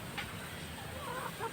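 A fighting cock on a farm gives a few quiet clucks over a soft, constant background of outdoor noise, with no voices in the clip.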